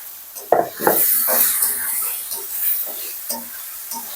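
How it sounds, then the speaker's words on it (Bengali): Masala sautéing in a pan with a bright, loud sizzle and hiss, punctuated by several clanks and scrapes of a spoon against the metal. "মশলাটাকে এখন হচ্ছে কি একটু কষাবো আর কি এখন টমেটোগুলো আগে দিয়ে দিব"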